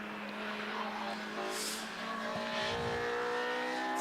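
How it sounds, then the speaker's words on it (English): Honda race cars, one a K-Series-swapped car, run at Donington Park; engine drone fills the scene steadily at a fair distance with a brief tyre or passing swell midway, and faint voices sit in the background. "You can hear those Honda noises, I think, on your screens now."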